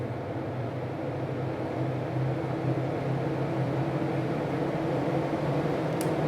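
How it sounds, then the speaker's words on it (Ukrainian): An axial fan runs steadily nearby at its second speed setting, giving a constant low hum and airy whir with no voices. "Вімкнемо вентилятор на першу швидкість"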